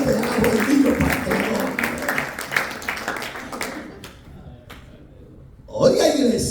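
A church congregation claps together in a brief burst of applause, fading into quiet before a voice resumes.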